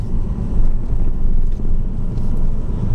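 A manual-transmission car engine hums steadily at just over 2,000 revs in second gear after a gear change, a loud, even low-pitched rumble with cabin noise and no speech.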